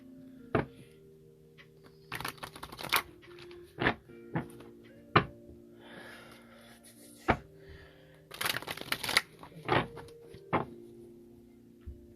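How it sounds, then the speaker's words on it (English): Quiet bursts of tarot card shuffling, riffles and taps coming in short clusters between pauses, with soft knocks and a faint background hum. "Let me just shuffle real quick."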